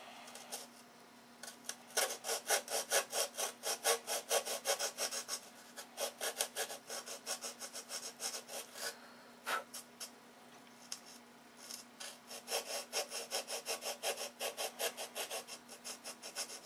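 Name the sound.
sanding brass piece with sandpaper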